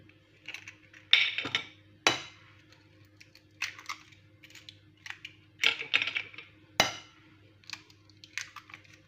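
Four eggs are cracked into a bowl of curd cheese, with several sharp, close taps of shell on the rim and faint clinks separated by quiet pauses.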